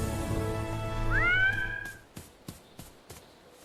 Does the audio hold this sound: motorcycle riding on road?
no